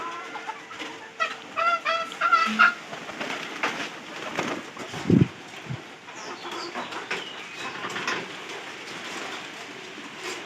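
Pigeons in a loft, recovering from a cold illness, coo and cluck close by in bursts, with some wing flutter and a low background hum.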